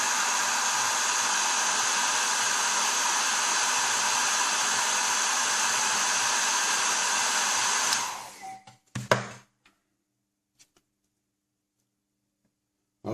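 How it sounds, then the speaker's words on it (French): A hair dryer blows steadily at close range over a 1/24 scale Tamiya Porsche 911 GT2 model kit, a loud even whoosh for about eight seconds before it is switched off, followed by a few small knocks. "On va donner un petit coup de sèche-cheveux."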